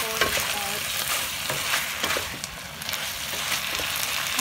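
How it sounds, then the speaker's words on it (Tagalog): Beef and broccoli being stirred in a pan to coat them in sauce, a steady sizzle with repeated scraping and stirring strokes throughout, close and fairly loud, with no talk. "Luto natin para mabalot siya ng sauce."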